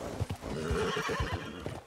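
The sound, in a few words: horse neighing in a video game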